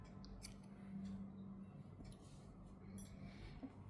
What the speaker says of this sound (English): then we can cut the extra yarn from here